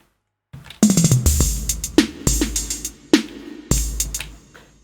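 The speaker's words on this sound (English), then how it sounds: "Here we enter with our drums." A soloed drum track layered with two heavy kick drums hits with punchy booming kicks and bright crashing cymbal and snare accents in a steady pattern after a brief silent start, close and loud with no voices.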